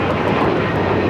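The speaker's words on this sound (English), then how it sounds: "let's head to the Delta A321neo. This flight heading to Tampa, now taking off" A Delta A321neo jet bound for Tampa roars down the runway on takeoff at LAX, a brief, loud, broad engine rumble with no voices.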